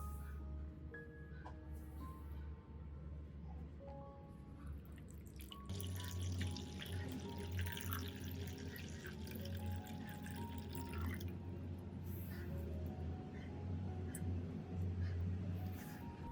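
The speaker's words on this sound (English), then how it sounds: "Then filter the water to remove impurities." Water being poured and filtered to strain out impurities while making an orchid solution, heard as close, continuous trickling and splashing with drips that grow fuller and louder partway through.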